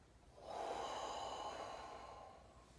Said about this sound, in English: We're going to breathe in through our nose and out through our mouth.